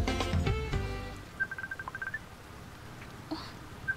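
A phone rings with an incoming call, sounding as a quick train of short, evenly spaced electronic beeps followed by a few more isolated tones, just after a loud musical chord fades out.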